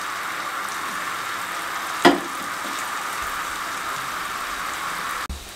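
Potato manchurian pieces frying in hot oil give a steady, even sizzle throughout, broken by a sharp splash or clatter near the middle and a brief knock near the end.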